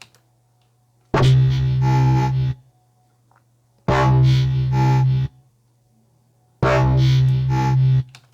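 Granular synth voice pitched toward a bassy tone, heard as three sustained held notes of about a second and a half each, separated by short silences, loud and alone with a strong low drone and bright upper shimmer.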